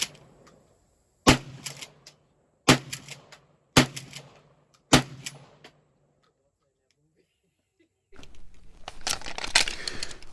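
A Maverick 88 pump-action shotgun fires four loud, sharp shots spaced about a second apart, each with a brief ringing decay. A stretch of quiet follows, then steady broadband rustling and noise.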